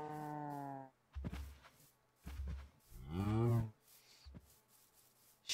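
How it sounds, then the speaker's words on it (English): Sheep in the Minecraft Tekkit Legends modpack bleat in a few short, tonal calls separated by pauses, clear and close, with game noises between them. "I need these sheep."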